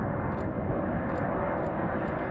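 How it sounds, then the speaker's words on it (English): Airplane taking off from Providence airport (PVD), a steady, loud broadband engine roar filling the whole clip without a break. "the plane taking off from PVD"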